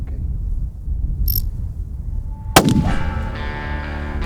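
A single sharp rifle shot fired during a trophy hunt for Armenian mouflon and aoudad in Texas cracks loudly midway and rings out in a decaying echo, with quiet outdoor ambience and faint insects before it.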